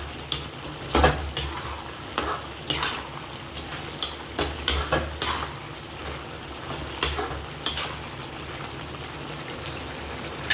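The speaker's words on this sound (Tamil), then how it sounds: "நல்லா கொதிக்குது பாருங்கள்." Bottle gourd thokku bubbles and sizzles as it boils in a pan, with irregular popping bursts and occasional scrapes of a utensil, close by and fairly quiet.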